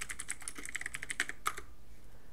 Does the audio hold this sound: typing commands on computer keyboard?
yes